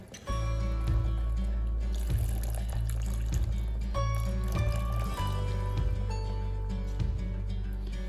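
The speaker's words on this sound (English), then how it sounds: "you add a little bit of water" Water is poured in a steady stream into a pan of spaghetti sauce, with gurgling and light splashing, clear and close, no talking.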